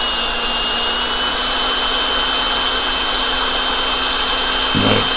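A power drill whines loud and steady, boring off rivet heads on a diecast Corgi 159 Cooper Maserati Formula One model car, with a brief lower change near the end.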